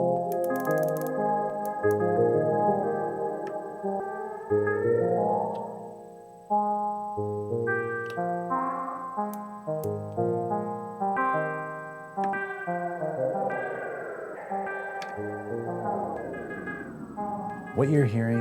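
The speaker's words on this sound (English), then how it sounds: "What you're hearing is the Nightverb, a super lush, super playable reverb by Erica Synths" Sustained synth tones wash through the lush Erica Synths Nightverb reverb with long, shimmering tails, changing pitch over nearly twenty seconds with no one speaking.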